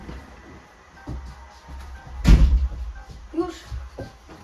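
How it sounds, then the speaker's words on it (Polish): A door is shut during an online gaming session, with one solid thud and slam midway, followed by a few lighter knocks and rattles against a low background hum. "Rafał, Nie, poszłem tylko zamknąć drzwi."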